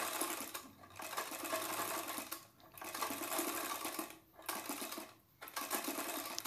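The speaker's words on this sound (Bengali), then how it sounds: "তো চাপ সেলাইয়ের মতো দিয়ে দিচ্ছি" A sewing machine top-stitches piping onto a size 36 prince-cut blouse, running in a close, continuous whirr broken by three brief pauses.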